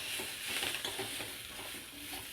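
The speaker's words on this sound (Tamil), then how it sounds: "இது வதங்கிறதுனால கொஞ்சம் எண்ணெய் ஊற்றியிருக்கேன்" Steady sizzling and crackling of vegetables sautéing in oil in a pan for a mutton curry, close up and continuous, with faint stirring scrapes.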